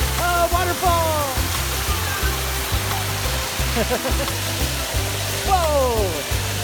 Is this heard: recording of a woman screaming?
no